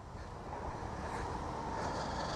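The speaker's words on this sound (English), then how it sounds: "And there's a train behind me," A high-speed train rumbles past at a steady, broad roar, its noise swelling slightly toward the end with no voices over it.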